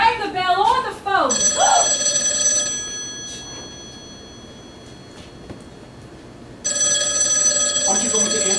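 A telephone bell rings in bursts, with harmonic ringing tones at the start and again near the end and a quiet gap between, while people speak over the first burst.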